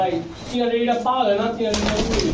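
Chinese teddy pigeons coo nearby, with soft, rolling, throaty calls repeating close to the microphone while people talk over them.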